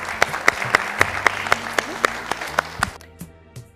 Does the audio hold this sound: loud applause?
yes